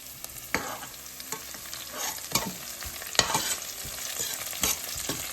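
Onion paste goes into a pan of roasted onions and fries with a soft sizzle. Stirring adds scattered scrapes and clinks, the whole quiet and close with no voices.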